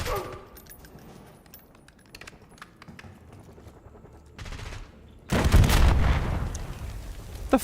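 Video game gunfire crackles in scattered bursts at moderate distance, then a louder, denser barrage of shots and blasts erupts near the end; a voice is faintly present at times.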